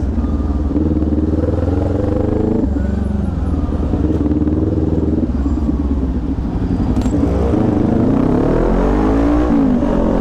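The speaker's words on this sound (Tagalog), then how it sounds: "Napaka-traffic guys." Busy road traffic on the way to the Villar City Christmas tree in Cavite, with a steady, loud rumble of motorcycle and car engines that swells and eases for the whole stretch. No one talks.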